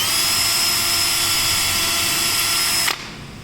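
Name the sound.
power drill drilling into wood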